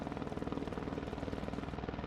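A firefighting helicopter flies overhead, a loud steady rotor chop with rapid rhythmic thumping and engine hum throughout.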